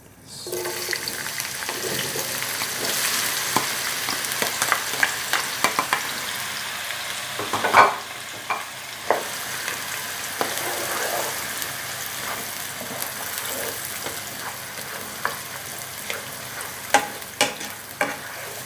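Raw onions fry in hot oil for a homemade liver dish, a continuous crackling sizzle punctuated by frequent sharp clicks and clatters of stirring, with one louder knock midway.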